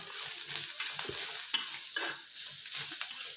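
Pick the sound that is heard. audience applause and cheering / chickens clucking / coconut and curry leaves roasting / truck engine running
coconut and curry leaves roasting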